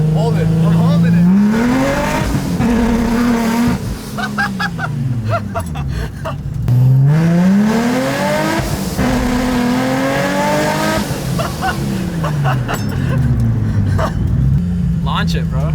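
A supercharged Infiniti G35 strapped to a dyno revs hard in repeated rising and falling pulls, its engine note sweeping up and dropping back several times, loud and close, with excited voices talking and shouting over it.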